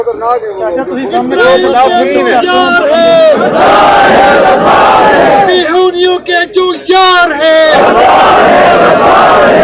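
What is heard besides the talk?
crowd chanting slogans at a political speech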